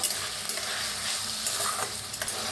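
Onions with garlic-ginger paste and green chillies fry and get stirred in a pan, a steady close sizzle broken by scraping stir strokes throughout.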